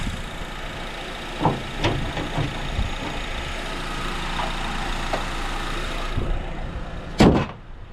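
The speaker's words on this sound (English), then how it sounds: "we're gonna let the engine idle with the hood closed" A 2008–2012 Honda Accord engine idles steadily with the hood closed, a low, even hum broken by a few scattered clicks and a sharp knock near the end.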